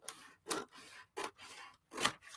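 Scissors slicing through paper for a mixed media poster book, three sharp distinct snips separated by softer sliding rasps, close and quiet with no voices.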